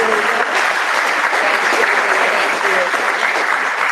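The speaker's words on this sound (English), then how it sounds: "So another nice round of applause." Loud, steady applause from a crowd at an education forum award session, many hands clapping in a continuous dense rush with faint voices mixed underneath.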